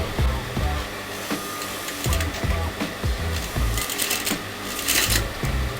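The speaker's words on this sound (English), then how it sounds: "I'm going to start sewing." A sewing machine stitches a kameez neckline, humming close and steady with rapid needle clatter, the motor speeding up and easing off slightly throughout.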